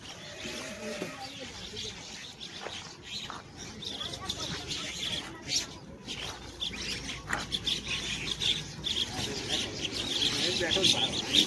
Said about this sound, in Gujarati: જો ગાઈસ ચકલીઓ જેટલી બધી આવી ખાવા